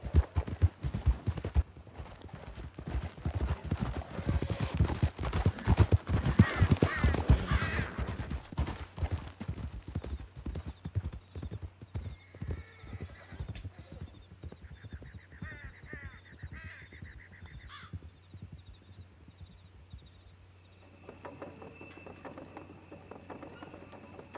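Horses gallop at speed across Red Dead Redemption 2 terrain, a dense, rapid run of hoofbeats that is loudest early on and then thins into lighter clopping over a steady low rumble.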